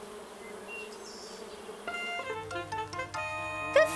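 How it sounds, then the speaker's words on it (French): Honeybees buzz around a beehive with a soft, rising hum, joined midway by light cartoon music. The layers thicken over a few seconds. "En fait, des milliers d'abeilles vivent dedans. Écoute bien et tu les entendras."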